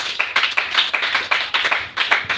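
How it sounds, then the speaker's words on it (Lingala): A church congregation claps in steady, fast rhythmic bursts to acclaim the Lord, the many hands close and loud throughout. "Acclamons le Seigneur Jésus-Christ"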